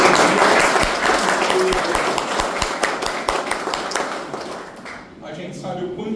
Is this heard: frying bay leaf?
no